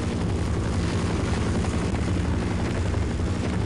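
A continuous heavy thrum from a helicopter in the game Half-Life, its rotor wash and engine holding a loud, even roar from start to finish, nobody speaking.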